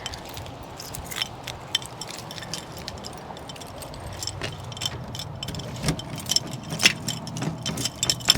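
A bunch of keys jangles and clinks repeatedly at a farmhouse kitchen counter while someone searches for the barn key, with scattered metallic chinks over a low background rumble.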